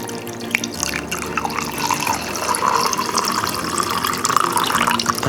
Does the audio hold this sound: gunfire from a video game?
no